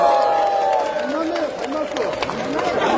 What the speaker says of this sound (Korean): 하늘에 계시지만 김대중 대통령에게 박수